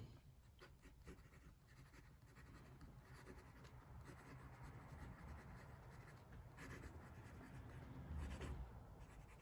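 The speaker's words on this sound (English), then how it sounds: "So some writing." Gold-nibbed fountain pen on paper gives a steady, close scratchy whisper of nib strokes with a hint of feedback, continuous and quiet, no voice.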